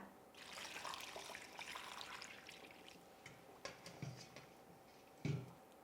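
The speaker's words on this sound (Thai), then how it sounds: "ทีนี้ให้ล้างน้ำสะอาดจนเมือกหมดเลยนะคะ" Peeled aloe vera is rinsed under running water, a steady faint splashing flow with a few louder knocks and handling sounds toward the end.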